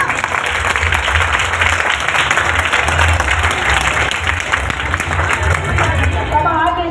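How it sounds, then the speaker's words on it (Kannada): Loud, dense applause from a crowd at a Kannada Rajyotsava celebration, continuous clapping that stays strong for several seconds. "ಜೋರಾದ ಚಪ್ಪಾಳೆ ಬರಲಿ."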